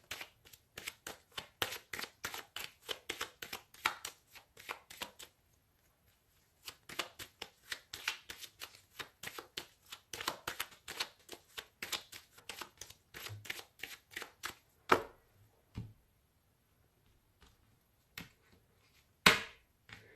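Tarot cards shuffled by hand in quick riffling bursts, then cut and laid down with sparser slaps and taps, close and crisp, with no talking.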